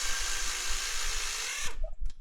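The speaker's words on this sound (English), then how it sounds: "now here we are taking loose the number 13 bolts on the case" A power tool loosens the number 13 bolts on the CVT case of a Saturn Vue, giving a close, steady high-pitched whir that cuts off abruptly near the end.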